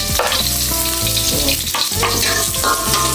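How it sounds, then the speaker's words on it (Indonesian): Shallots sautéing in a pan for chicken tongseng, with a loud steady sizzle, scraping stirs and clinks of a utensil against the pan. "Yang pertama-tama kita menumis bawang merah"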